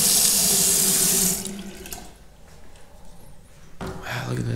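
A shower faucet in a newly remodeled modern bathroom runs loudly with a hissing spray for over a second, then cuts off, leaving quiet room tone and a few faint knocks.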